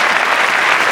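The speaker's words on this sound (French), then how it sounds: "on peut applaudir Trinquant" A comedy-show crowd in Saint-Étienne bursts into loud, dense applause, a short, continuous roar of many hands clapping together.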